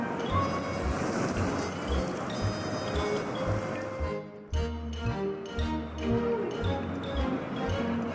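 Water from a kettle is poured over coffee grounds in a pour-over filter, making a steady, close splashing wash that runs continuously with a slight shift in tone partway through.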